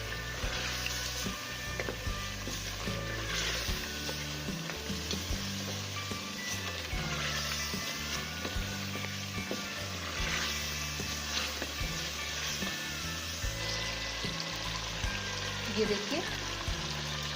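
Sulemani karahi sizzles and crackles steadily in a pan as roasted ground cumin and black pepper are stirred in, with someone briefly speaking over the continuous frying.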